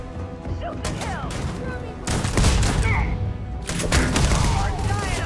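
Dense bursts of gunfire in the sci-fi video game Starfield, rapid shots and booming impacts stacking into a loud fusillade that intensifies midway, with voices calling out during the firefight.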